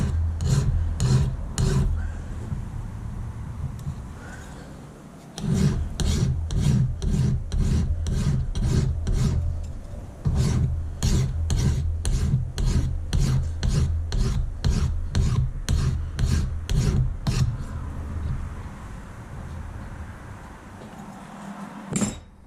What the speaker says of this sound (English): I'm gonna get my flat file, or my finer file out, and just follow it all the way through from both sides